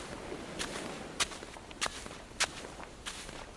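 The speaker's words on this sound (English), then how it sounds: "Someone has just come trudging along carrying a very heavy box" Heavy trudging footsteps of someone carrying a very heavy box on sand, four or five evenly spaced dull thuds roughly every half second, close but soft over faint background noise.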